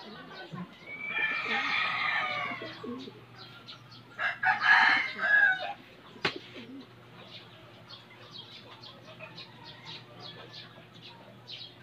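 Young fighting cocks, about two months old, crow in a Filipino backyard among pigeons, two loud harsh calls in the first half standing out over a low steady hum, with fainter bird sounds continuing afterward.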